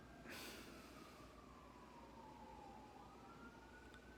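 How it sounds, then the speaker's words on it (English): A faint emergency siren wails in the distance, its pitch sliding slowly downward over a steady low background hum, with no one talking. "you can hear the sirens"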